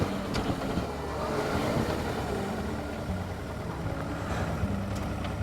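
Car engine heard near Dunnet Sands beach on Scotland's north coast, a steady low rumble of a vehicle moving along the road with wind noise, no talking.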